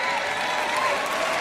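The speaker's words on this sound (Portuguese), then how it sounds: "Então, palmas para você." A church congregation applauds during a Joyce Meyer sermon, with a short burst of dense, steady clapping that fills the room at an even level.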